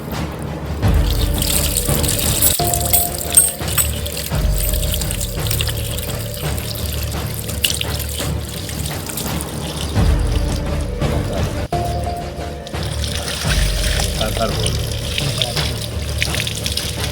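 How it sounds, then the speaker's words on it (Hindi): Water poured steadily little by little over a Shiva lingam in a forest shrine, a continuous close splashing and trickling stream with brief dips, heard alone without talk. "थोड़ा थोड़ा पानी लेके डालेंगे"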